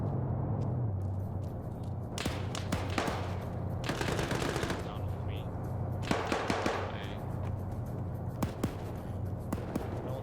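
Shotgun blasts in the Arma 3 military shooter during a Sierra Leone campaign town fight, scattered sharp reports among other gunfire over a steady low background, with voices talking now and then.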